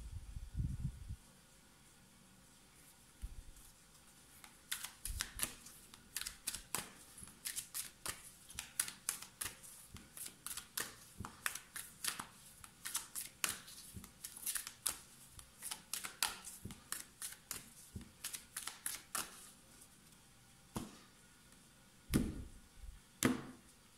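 Playing cards being shuffled and riffled close by, in quick crackling bursts that repeat with short pauses across the whole stretch, with no voices.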